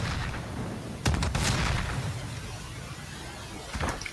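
Video game gunfire during a 2v2 esports community tournament match: a quick cluster of sharp shots, then another brief burst a few seconds later, over steady background noise.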